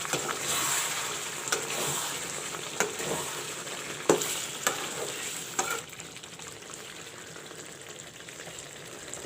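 Chicken for black pepper chicken fries in a covered pan, a steady close sizzle with sharper crackles and pops scattered throughout, settling slightly quieter toward the end.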